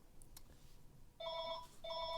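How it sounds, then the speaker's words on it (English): A telephone rings twice in electronic bursts during a garden pea-sowing session, clear and fairly loud against quiet outdoor background, with a pause between rings. "Why do I always get phone calls when I'm in the middle of a video?"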